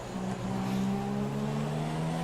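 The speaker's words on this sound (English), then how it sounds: "just open the revs up slightly here" Formula 1 race car engine in the F1 2017 video game on the Singapore circuit, revving steadily with a sustained high-pitched whine and harmonic layers, loud and close throughout with no talking.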